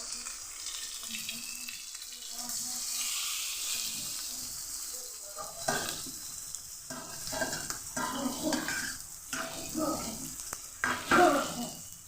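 Water poured into frying ghugni masala in a pan, a soft sizzle that swells and bubbles as the water hits, with intermittent scraping and stirring and some nearby background voices.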